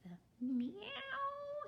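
A voice sings a drawn-out imitation of a cat's meow, a single rising-then-falling call, close and clear.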